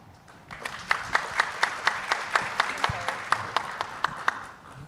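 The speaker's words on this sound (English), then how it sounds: "please give her a big round of applause" Audience at an International UHC Day conference applauds, a steady patter of clapping that builds and carries on, moderately close with hall reverberation.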